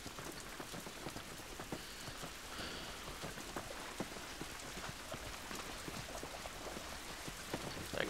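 Steady rainfall in the video game The Last of Us, a soft continuous hiss of drops pattering on surfaces with scattered sharper splashes, quiet and even throughout with no voices.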